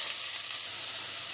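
Onion, carrots and peppers fry in a hot pan with a steady, close sizzle that holds at an even level throughout, with no voices.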